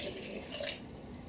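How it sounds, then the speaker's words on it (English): Water is poured into a blender cup for a smoothie, giving a quiet, steady splashing trickle at close range with a brief brighter gush midway and no talk. "So first we're going to put about 1 cup of water."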